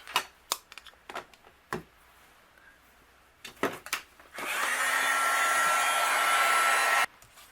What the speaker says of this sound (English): I'm going to bring in my heat gun and we'll melt these.